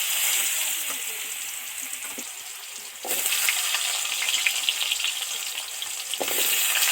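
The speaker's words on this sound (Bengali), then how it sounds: "এগুলো ছাকা তেলে ভেজে নিচ্ছি" Fish deep-frying in hot oil, a dense close crackling sizzle that swells louder in two surges as pieces go in, with no talking.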